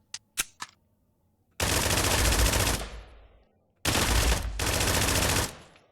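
Bursts of SMG automatic fire in the video game Exfilzone, a few quick single shots followed by two long, loud, sustained sprays of rapid gunfire.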